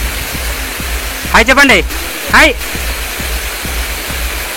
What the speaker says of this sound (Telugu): చూసుకుంటే ఇలా వచ్చిందనమాట వాటర్ ఫాల్స్.